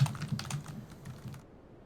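Someone types on a computer keyboard in a quick burst of close, light key clicks that stop abruptly partway through.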